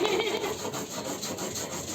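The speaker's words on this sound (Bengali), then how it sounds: "পোস্ত বাটা চলছে" Poppy seed paste ground on a grinding stone makes a continuous rough, rhythmic rubbing and scraping, steady and close throughout.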